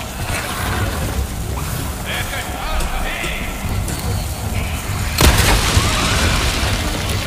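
A bomb blast in Resident Evil 4 Remake hits with a sudden, loud burst, then a rough rumble, all over constant dense game noise.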